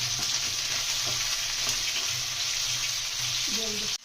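Water poured into frying ground spices for a katla fish kaliya, a loud steady hiss and rush of sizzling that cuts off abruptly near the end.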